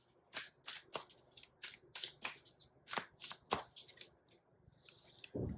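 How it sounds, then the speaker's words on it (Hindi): Tarot cards being shuffled and drawn during a reading: a close run of crisp, papery riffles and flicks in quick bursts, with brief pauses between them and no talk. "और कार्ड निकालते हैं।"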